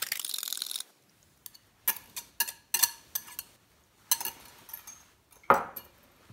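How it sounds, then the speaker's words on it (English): Egg whisked in a bowl for latkes, heard as a series of close, sharp clinks and scrapes of utensil against the bowl in irregular bursts, with a rush of sound at the start and quiet gaps between strokes. "Starting with our egg, get that whisked together a bit."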